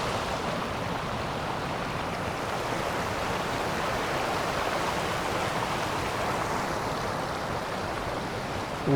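Steady, broadband rush of a clear, cold river flowing at a hidden spot near Kediri, continuous and fairly loud with no speech over it.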